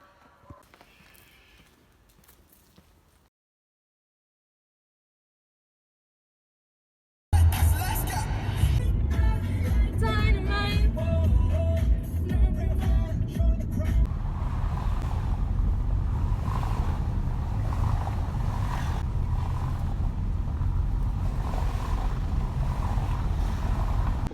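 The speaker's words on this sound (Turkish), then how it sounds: "Arabanın sesi gerçekten çok kötü." A loud, continuous low rumble of a vehicle engine and road noise fills the scene, with a few brief clicks and rattles early on, after a short silence.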